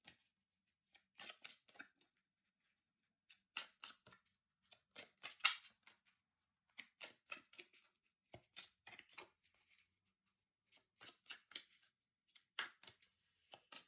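Tarot cards being shuffled and handled in repeated short bursts of crisp papery riffling with brief pauses between, close and fairly quiet, no voices.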